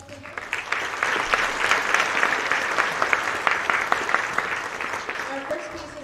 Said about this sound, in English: Let's give a round of applause to the Trafford Middle School.